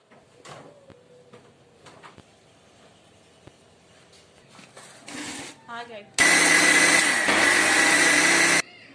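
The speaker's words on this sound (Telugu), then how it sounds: "ఇప్పుడు మనం మిక్సీ పట్టుకుందాం" A mixie (mixer grinder) blends ghee, oil and five eggs: after quiet kitchen clinks and handling noises, a short whir starts, then the motor roars loudly and steadily for about two seconds before cutting off.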